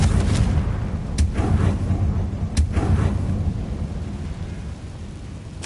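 Fiery Confringo spell blasts from Hogwarts Legacy, a couple of sharp booming bursts over a constant rumbling game background, loud and close, with no talking.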